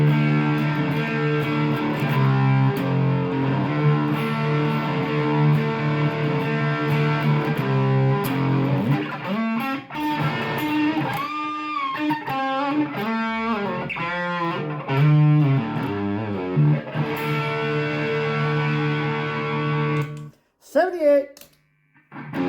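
Strat-style electric guitar on its bridge pickup, played through a Distortion Plus pedal with every knob turned fully up: loud, saturated chords and sustained single-note lines ring out continuously, with a brief choppy break near the end.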